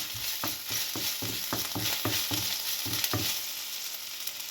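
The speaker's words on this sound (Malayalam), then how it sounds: "ആദ്യം നമ്മൾ ഇഞ്ചി ഒന്ന് വഴറ്റിയെടുക്കാം" Ginger sautéing in hot oil for vendakka mappas, a bright continuous sizzle punctuated by a rapid series of spatula scrapes and stirs that fade toward the end, with no talking.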